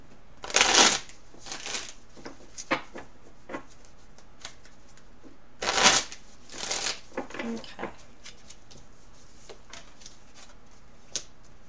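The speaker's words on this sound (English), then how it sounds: "So I'm just going to shuffle a couple more times here." Tarot cards shuffled by hand in two quick riffle bursts with softer card taps and handling between, close and crisp.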